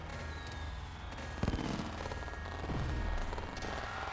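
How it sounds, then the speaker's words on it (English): Fireworks in the video game Pokemon Sword and Shield, a continuous crackling volley of rapid pops and bursts with a few stronger thumps, steady and fairly loud. "Nice fireworks."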